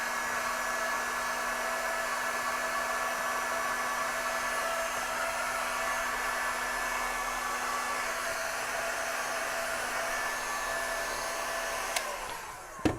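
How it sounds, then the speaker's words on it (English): A heat gun set to around 300 to 500 degrees blows steadily, whooshing and whining at an even level while melting heat shrink tubing and its glue, then cutting off abruptly near the end. "I like a heat gun just because I've got one and it does a really good job."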